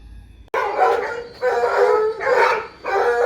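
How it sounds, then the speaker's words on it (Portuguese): A pack of hunting dogs howls and barks at dawn before a wild boar hunt, with several loud, drawn-out howls in overlapping bursts after a sharp opening sound. "Cachorrada bruta, animada pro pega."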